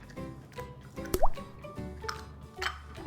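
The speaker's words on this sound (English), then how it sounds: "Pour the egg white." Egg white drips and plops into a big bowl while eggs are separated for meringue cookies, a few soft wet drops and squishes close by, no talking.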